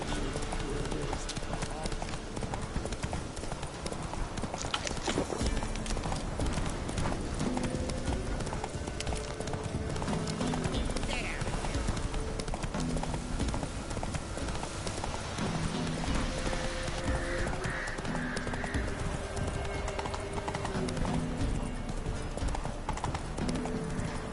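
Roach, the horse in The Witcher 3, gallops in rapid, continuous hoofbeats that run throughout, loud against game ambience, with someone talking intermittently over it.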